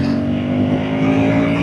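A 2026 KTM Duke 350 motorcycle's new engine pulled hard in third gear gives a loud, steady, close-up drone with strong tonal harmonics that holds throughout the short stretch.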